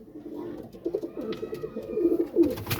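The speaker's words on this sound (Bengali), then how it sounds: "এই যে পায়রা, এই যে পায়রা" Pigeons coo in low, throaty rolling phrases, several overlapping birds close by, with faint background rustle and no talk.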